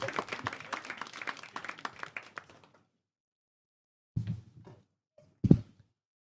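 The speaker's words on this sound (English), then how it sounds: "Right, round of applause, Jan. Really, everyone, for Mr. Tom Lewtas." Comedy club audience claps for a comedian at a live show, a dense burst that dies away within about three seconds, followed by silence and a couple of brief, isolated low thumps.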